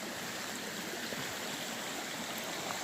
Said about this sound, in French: je viens de traverser une très jolie petite rivière.